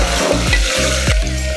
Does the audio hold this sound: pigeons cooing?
no